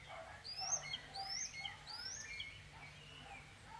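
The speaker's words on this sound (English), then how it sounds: "You can hear the birds singing in the background." Birds in the Aber valley near Abertridwr, Wales, sing a series of three bright, descending whistled phrases with softer chirps, set against a low steady wash from a nearby waterfall.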